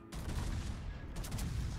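Naval gunfire in a warship battle game featuring the Montana, a low rumbling barrage of heavy cannon fire with sharper reports breaking through, moderately loud and steady throughout.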